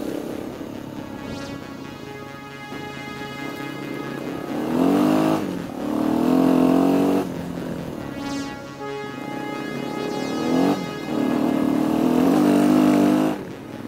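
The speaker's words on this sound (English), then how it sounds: "I'm on Gary's Honda Africa Twin" Honda Africa Twin adventure motorcycle with DCT automatic-shifting clutch ridden on a watered dirt track along Shelf Road, engine droning steadily with several rising surges as it accelerates through shifts, close and loud, no talk.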